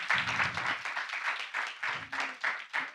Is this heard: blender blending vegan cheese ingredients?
no